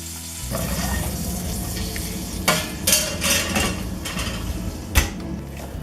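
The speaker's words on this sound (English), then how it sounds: "I'm cooking down my sauce slowly because I'm a bit saucier." Puttanesca sauce with tomatoes and olives sizzles and simmers in a pan, a steady close frying hiss punctuated by several sharp clinks of a utensil against the pan.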